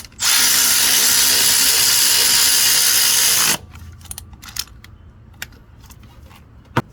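A power tool, likely a drill or driver, whirs loud and steady for about three seconds while working a bolt on the power steering pump of an Infiniti G37, then stops, leaving faint clicks and clanks of tools and parts.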